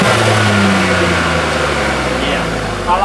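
A Ford Fiesta ST with a 3-cylinder engine and stock intake revs up and holds a rising drone, loud and close, while someone talks over it.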